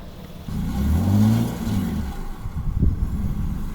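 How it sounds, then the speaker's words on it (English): A Lexus SUV engine revs up with a rising growl, holds, then sputters and strains in uneven bursts nearby while pulling out a stuck Kia Mojave in Oman, no voices heard. "this car Lexus Sport will try to pull out the Kia Mojave"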